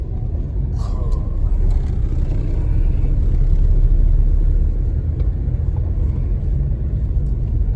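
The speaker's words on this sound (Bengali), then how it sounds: "রাস্তা দেখুন বন্ধুরা, এটাকে বলে অফ রোডিং, স্করপিওর অফ রোডিং" A Scorpio SUV drives off-road along a rough, narrow rural road near Purulia, its engine and tyres making a loud, steady low rumble that continues throughout with no clear breaks.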